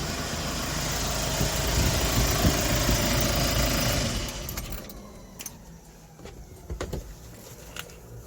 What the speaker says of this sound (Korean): 다시 시동을 끄겠습니다